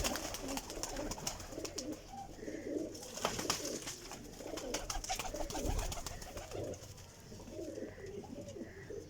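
Costly paired pigeons of an old bloodline cooing in a loft, soft repeated low coos close by over a constant hissing background, with no talking.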